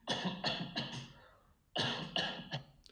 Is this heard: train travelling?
no